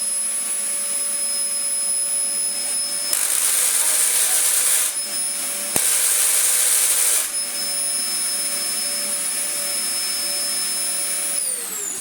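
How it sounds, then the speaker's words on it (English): Dyson DC04 Zorbster vacuum with a worn clutch and mould, motor running with a steady whine and whooshing airflow that surges louder in two short bursts before winding down at the end, a voice speaking over it. "we have ourselves a decent motored Dyson DC04 Zorbster with a knackered clutch and mould"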